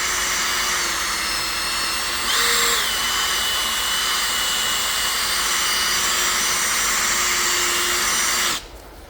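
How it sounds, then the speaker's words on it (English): A cordless drill with a polishing pad buffs car paint using cutting compound paste, a loud steady high whine that holds for about eight seconds, rises briefly, then cuts off abruptly. "Get a drill."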